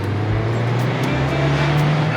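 A Mazda MX-5 ND (Mk.3) roadster drives with a loud, steady engine drone and road roar from inside the car, the pitch rising slightly as it pulls along.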